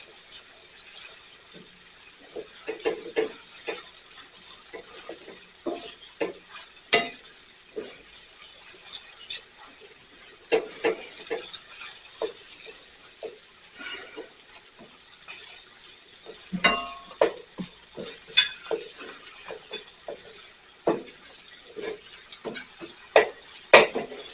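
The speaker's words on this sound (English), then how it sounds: "So let's go ahead and put in the shallots. And we want to saute them as well." Shallots sauté in a pan while steamed clams with wine are being prepared, heard mostly as scattered, irregular scrapes and clinks of a utensil over a faint, quiet sizzle.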